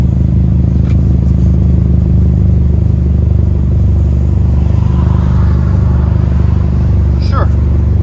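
A 2017 Honda Civic Si with a MAP cat-back dual exhaust idles and revs loud and close, giving a steady deep rumble with pulsing exhaust throb that holds the whole time.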